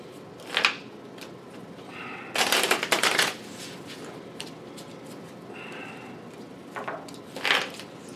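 A deck of playing cards is shuffled during a four-player Exploding Kittens game, with several quick riffling bursts, the longest near the middle, close and fairly loud against a quiet room.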